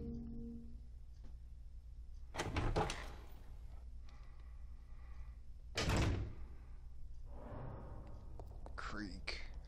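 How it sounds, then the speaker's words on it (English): Two heavy thuds of a door opening in the mansion of Resident Evil Zero HD, set against a low steady game ambience, with quieter rustling sounds between and after. "Every time you open that door, there's some creaking noise."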